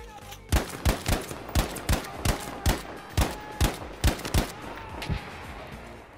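Rapid gunfire or blasts ring out in Battlefield V, a regular run of about fifteen sharp loud bangs evenly spaced, then a few scattered later ones.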